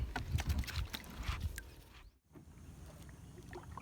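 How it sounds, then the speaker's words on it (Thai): Oars splash and knock rhythmically as a rowboat is paddled home after fishing, with irregular watery strokes and a brief quiet gap midway. "พายเรือกลับบ้าน"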